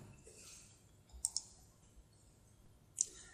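Computer mouse clicking during desktop work, a few faint, crisp clicks: a quick pair followed by a single click a moment later, in an otherwise quiet room.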